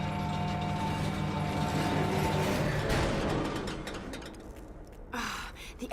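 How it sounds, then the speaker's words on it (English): Grinding, ratcheting machinery of a jammed elevator in the Tomb Raider video game clanks and strains, then stutters and stalls into a few scattered clicks and knocks, like a stuck mechanism. "The elevator is jammed."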